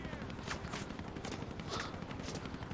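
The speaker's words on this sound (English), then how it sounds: "I'm getting shot at," Gunfire in the video game GTA 5, dense and continuous with repeated crackling bursts and a rumbling bed, the scene unfolding while a player climbs a ladder.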